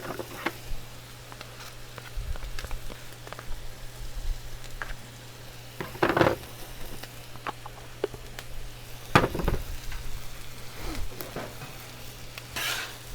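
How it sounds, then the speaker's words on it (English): Sausage frying in bacon grease on a Blackstone griddle gives a steady close sizzle, with occasional scrapes and clatters of a spatula stirring the food. "I'm going to throw a little bit more bacon grease in there."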